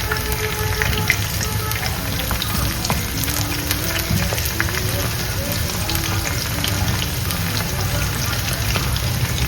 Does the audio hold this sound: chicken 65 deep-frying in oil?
yes